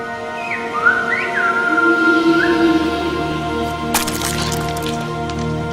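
A human whistler on the island of La Gomera sends Silbo Gomero, the whistled language, as clear sliding pitch glides, followed near the end by a few sharp cracking clicks.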